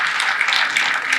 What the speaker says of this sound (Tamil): கைத்தட்டலாங்க, கைத்தட்டலாம்.